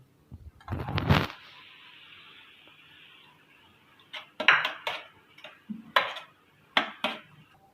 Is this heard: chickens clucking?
no